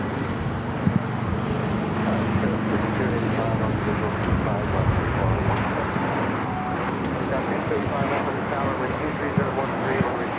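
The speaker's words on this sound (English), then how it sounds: "671 taking off to Las Vegas on the A320neo" A Spirit Airlines A320neo takes off from LAX, its jet engines producing a steady, broad roar with deep low rumble that holds throughout, mixed with general airport and traffic noise.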